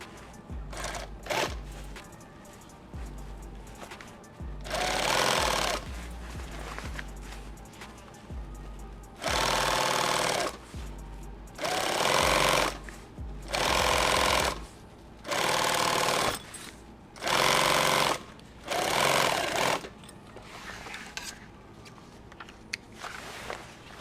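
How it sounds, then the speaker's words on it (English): Bursts of loud, close sewing machine stitching on a kit bag, several runs of rapid mechanical chatter separated by short pauses with handling noises in between. "that's single stitched. We're about to sew over it a bunch more though."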